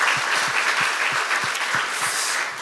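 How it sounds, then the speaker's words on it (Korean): A church congregation claps in thanks during a worship service, giving steady, dense applause at a constant level for the whole stretch with no speech over it. "하나님께 우리 감사의 박수 드릴까요?"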